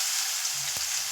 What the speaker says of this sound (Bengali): তেলের মধ্যে পেঁয়াজ দিয়ে দিচ্ছি,